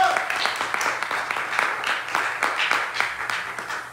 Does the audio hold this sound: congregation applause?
yes